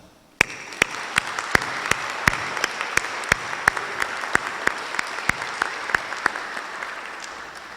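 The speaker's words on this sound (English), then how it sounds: "I want to give you another round of applause." Audience applause for veterans at a university Veterans Day program, heard as a steady rhythmic series of sharp, evenly spaced claps standing out over a softer wash of crowd clapping.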